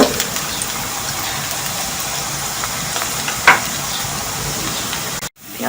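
Onions fry in a pan and are stirred, a steady broad sizzle with one sharp scrape of the spoon, and a brief dropout near the end.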